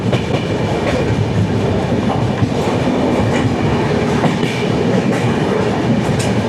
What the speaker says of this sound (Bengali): আবার ট্রেন ছেড়ে দিয়েছে এখান থেকে